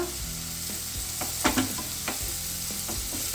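Onions sauté in hot oil in a pan, giving a soft steady sizzle with a few scraping stirs of a spoon, heard up close at low volume with no voices.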